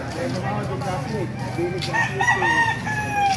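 Roosters crow at a market in Baliuag, several drawn-out calls rising and falling over background chatter and general clucking noise.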